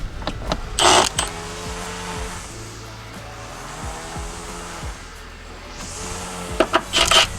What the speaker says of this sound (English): Now what we have to do is we have to take off the whole wheel well fender liner